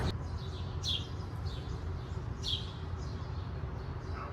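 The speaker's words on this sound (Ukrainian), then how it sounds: "Пташка залетіла додому." Small bird that has flown indoors gives a series of faint, brief chirps at fairly regular intervals over a quiet room background.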